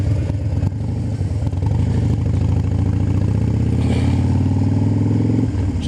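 A 2012 Harley Davidson Super Glide Custom on the road, its engine rumbling steadily and loudly throughout with a slight rise in pitch as it accelerates, accompanied by wind noise and no talking.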